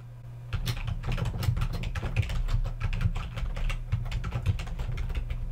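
Steady, close typing on a computer keyboard as a name is entered, rapid key clicks in an even stream over a low background hum, with no voices.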